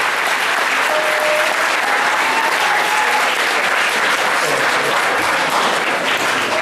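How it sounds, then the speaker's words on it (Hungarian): Loud, sustained applause from an audience at a Christmas school show fills the hall, dense steady clapping with some crowd noise and faint voices mixed in throughout. "Nekik is kérünk egy hatalmas tapsot."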